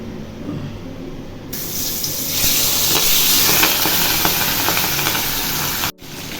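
Fish frying in a pan of simmering tamarind water gives a steady hissing sizzle that swells louder a few seconds in, with a brief dip near the end, and no talking.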